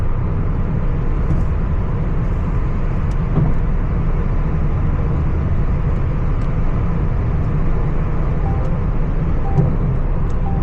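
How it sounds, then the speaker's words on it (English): Steady, loud broadband road and engine roar of a car cruising at about 120 km/h on a highway through Riyadh, continuous and unbroken with no voices. "driving 120 through Riyadh, going huge distances"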